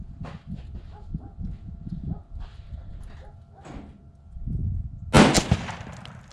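A single rifle shot from a .25 Creedmoor loaded with 133-grain Berger bullets cracks loud and close, leaving a short ringing tail after a stretch of quiet handling noise and low murmur.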